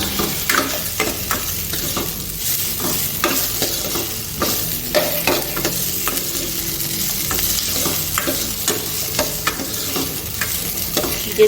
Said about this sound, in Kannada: ಚೆನ್ನಾಗಿ ಎಣ್ಣೆಯಲ್ಲಿ ಹುರಿಬೇಕು